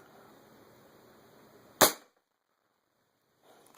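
A .25 caliber Marauder air rifle fires a single sharp, loud shot that cracks and decays quickly, then near silence follows before faint room noise returns.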